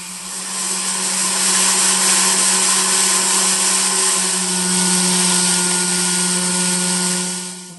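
A rotary tool with burrs whines steadily and loudly while carving a fantasy sword sculpture of layered Damascus steel, a continuous high-pitched drone with no pauses.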